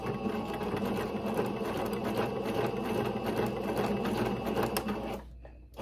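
A sewing machine back-stitches the end of a ribbon on a tutu sock, whirring in a close, steady rhythmic run before stopping abruptly near the end.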